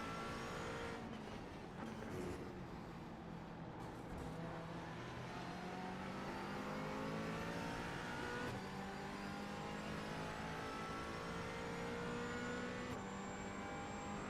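A McLaren 570S GT4 races around Daytona in the iRacing sim, its engine revving continuously with rising and falling gear-change sweeps, loud and steady throughout without pauses.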